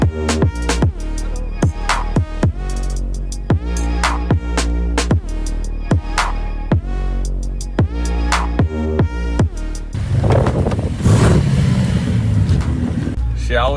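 Engines of a Ferrari and a Lamborghini revving on a drive, a run of sharp, repeated throttle blips rising and falling in quick rhythm, followed by a rushing, wind-buffeted roar as the cars pull away.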